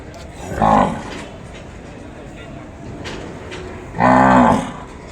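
A cow moos twice, close and loud at a Sunday cattle market: one short low call early, then a longer, fuller moo a few seconds later, with quiet ambience between.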